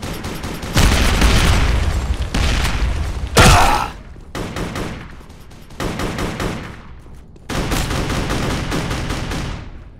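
Dense, loud automatic gunfire and a grenade blast from the street shooter District 187: Sin Streets, with sustained bursts broken by short pauses and one sharp explosive burst near the middle.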